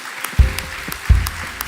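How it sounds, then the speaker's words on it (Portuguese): A church congregation gives sparse, rhythmic clapping for volunteers, with a few separate claps spaced evenly over a quiet room background and louder thumps now and then. "Vamos dar uma salva de palmas para eles."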